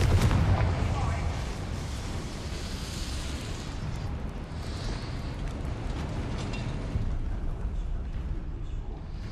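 A Confringo fire spell blasts in Hogwarts Legacy with a heavy booming burst and rumbling fiery roar that fades into a long sustained low rumble.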